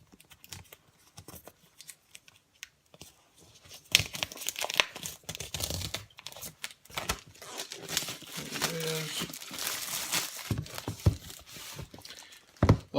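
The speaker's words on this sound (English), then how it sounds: "So I'm going to cut up the packaging next. Let's see. Cut the plastic." Plastic packaging is cut open with crinkling, tearing and snipping, close and irregular, getting busier and louder after the first few seconds.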